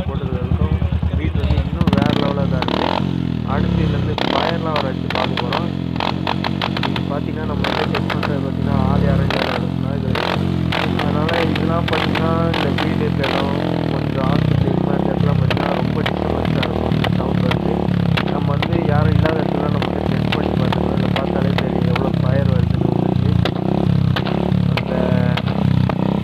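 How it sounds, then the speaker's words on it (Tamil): A Royal Enfield Thunderbird fitted with a short silencer thumps and revs close by, its loud, throbbing exhaust beat rising and falling throughout while someone talks over it. "ஷார்ட் சைலன்ஸர் போட்டது"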